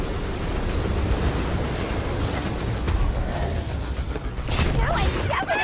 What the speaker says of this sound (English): The train's pulling away.